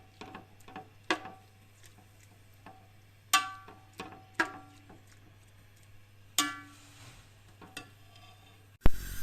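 A spoon stirs milk in a pot on a village stove, giving scattered sharp metallic clinks and scrapes with quiet gaps between them and a low steady hum underneath.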